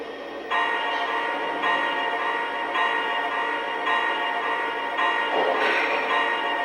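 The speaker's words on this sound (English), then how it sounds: "Here's our swinging bell." Swinging bell on a Lionel Vision Line Triplex model steam engine, ringing in a slow regular rhythm of about one strike per second over a continuous mechanical hum, close and fairly loud.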